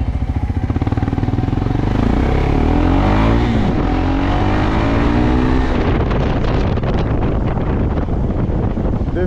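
A modified KTM 390 Adventure motorcycle with an Akrapovic exhaust being ridden, a loud close engine roar rising and falling through revs under heavy wind buffeting on the microphone.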